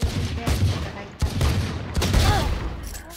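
Gunshots ring out in the Valorant video game as sharp, loud bursts about every second, three or four in a row over a busy background.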